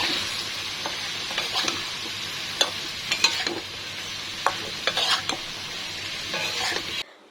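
Vegetable bhaji frying in a pan gives a continuous close sizzle, with frequent sharp spatula scrapes and clinks against the metal in an irregular rhythm, and no voices.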